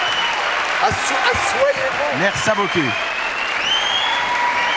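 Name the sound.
studio audience applause welcoming a guest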